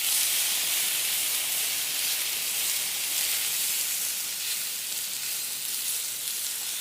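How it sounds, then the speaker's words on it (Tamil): Egg beaten with onion and green chili hits a hot pan for a cheese bread omelette, giving a steady, even hiss of sizzling that holds for several seconds with no voices over it. "அடுத்தது வந்து நாங்கள் இந்த கலந்து வச்சிருக்கிற முட்டை, வெங்காயம், பச்சை மிளகாய் இது எல்லாத்தையும் ஊற்றிடுவோம் இதில்."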